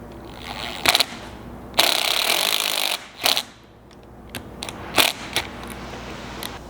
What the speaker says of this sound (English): And then with a 13mm socket, we're going to tighten these up